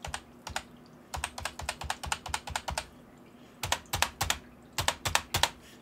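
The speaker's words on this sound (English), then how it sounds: "this is what a key sounds like from the keyboard itself" Keys are pressed on an MSI Vigor GK30 gaming keyboard, with quick bursts of crisp, close clicks and clacks separated by short pauses.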